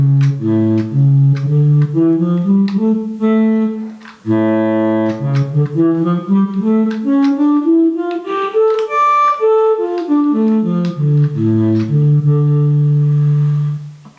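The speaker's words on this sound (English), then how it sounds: "Sound of the tenor sax." A tenor saxophone, a compact travel sax, plays a loud, sustained melodic line alone, with rising and falling phrases and one brief pause midway.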